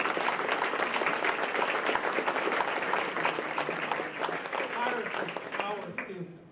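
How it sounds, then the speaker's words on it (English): Audience applause for the organizer of a 50th birthday celebration for Pathfinder Services, steady dense clapping from a room of people that holds strong for about six seconds, with voices mixed in, then thins and fades near the end. "Give her a big round of applause"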